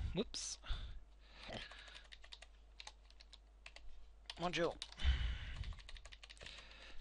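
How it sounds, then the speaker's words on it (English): Keys clatter on a computer keyboard in quick, uneven bursts of clicks while someone talks between them, close and fairly quiet. "My typing is atrocious."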